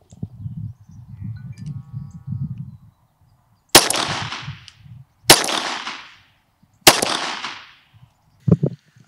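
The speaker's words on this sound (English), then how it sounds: "we're going to fire 3 test shots so you can see how it sounds without the earmuffs on" Three test gunshots from a rifle with a barrel of about 27 inches ring out without hearing protection, each a sharp, loud crack with a decaying echo, evenly spaced a second or two apart, with faint low murmuring between them.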